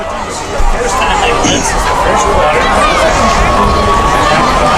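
A large crowd at a high school football game between Everett and Peabody fills the air with a steady, loud roar of chatter and cheering, with a louder swell near the start.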